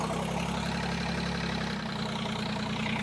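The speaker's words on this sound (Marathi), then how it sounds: "हे ट्रॅक्टर चालू आहे" A tractor engine running on a farm, a steady low mechanical rumble with an even drone that holds unchanged throughout, with no talk over it.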